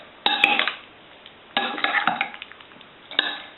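Cucumber salad being stirred with yogurt in a bowl, three bursts of a utensil scraping and clinking against the dish with short pauses between.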